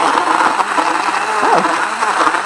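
A Hamilton Beach cordless blender runs with a steady, close, buzzing whir that holds level throughout, with a brief voice sound partway through.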